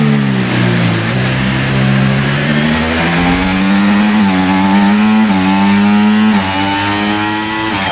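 Formula 1 car engine from the racing game F1 24 at the Singapore race, a loud continuous high-pitched whine rising and dipping through gear shifts for the full stretch, running hot behind another car, with no talk.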